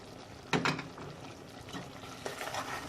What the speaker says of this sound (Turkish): Cevizimi de reçelimin içerisine boşaltıyorum.